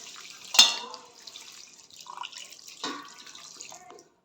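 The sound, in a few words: water poured into wok of jackfruit and fried prawn curry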